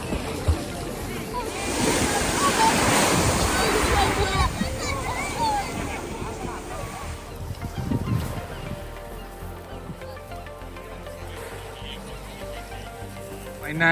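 Sea waves break and wash over a fine-gravel pebbly beach in Bournemouth, a loud surge building and fading over several seconds, with a voice talking nearby throughout.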